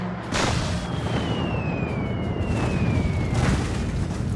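Bombs burst during a wartime air raid on Malta, a loud continuous roar of explosions with a falling whistle overhead and renewed blasts near the end.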